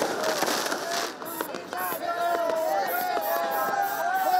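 Fireworks and firecrackers going off at New Year outside a clinic where supporters gathered at night, with repeated crackling bursts and pops over a busy crowd hubbub and chatter.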